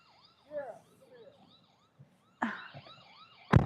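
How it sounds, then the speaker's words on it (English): A camera's security alarm sounds as a warbling, repeating electronic siren-like tone, fairly faint, interrupted by a few louder bumps and handling knocks. "I don't know why my camera's alarm is going off all of a sudden."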